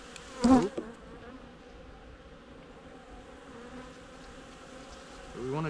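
Honey bees humming in an open hive during an Api-Bioxal trickle treatment, a steady low buzz throughout with a brief louder burst near the start and a rise at the end.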